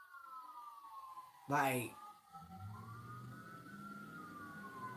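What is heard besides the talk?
emergency vehicle sirens outside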